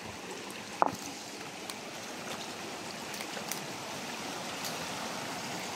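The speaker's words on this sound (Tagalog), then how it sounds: "Mas rumagasa ang tubig." Steady broadband rush of flowing stream water in a forest, continuous and fairly loud, with a brief sharp knock near the start.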